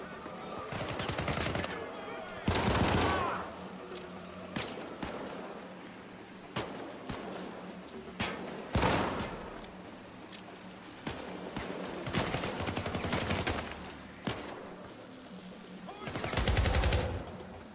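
Repeated bursts of gunfire in the video game Syndicate, from single shots to short rapid volleys, sounding loud and close against a steady background hum.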